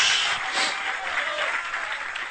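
Church congregation giving applause of praise to Jesus, a continuous dense wash of clapping from many hands, fairly loud and steady for its whole length with no speech on top.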